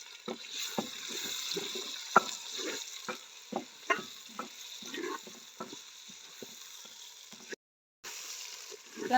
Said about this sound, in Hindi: चिकन फ्राई करेंगे।